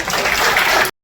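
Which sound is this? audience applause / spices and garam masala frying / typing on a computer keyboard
audience applause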